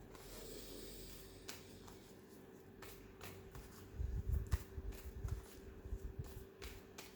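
Tarot cards being laid out on a table during a reading, soft papery slides and light taps, faint and close, with quiet rustling in a calm room.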